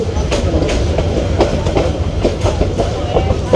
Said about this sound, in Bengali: চট্টলা এক্সপ্রেস ব্রাহ্মণবাড়িয়া রেলওয়ে স্টেশনে ঢুকে গেছে